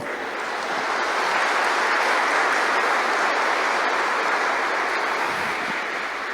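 A church congregation gives a loud, sustained round of applause during a sermon, a dense wash of many hands clapping at once, continuous and even throughout with no voices.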